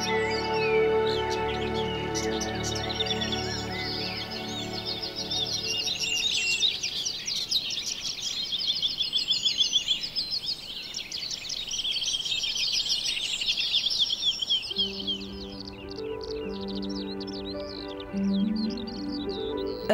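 Spring birdsong across European landscapes: dense, overlapping chirps and trills from many birds, fairly close and steady, with a shift in the last few seconds to lower, more tonal calls under the song.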